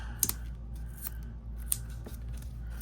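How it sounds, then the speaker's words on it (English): Scissors snip through a piece of craft foam for a Halloween shaker card, giving about four crisp, separate cuts close by over a steady low background hum, with no voices. "I just quickly cut off that piece."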